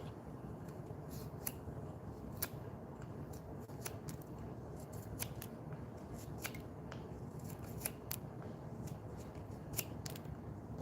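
Something is being cut down with quiet, crisp snips that come irregularly, a dozen or so over ten seconds, against a soft, steady background hush.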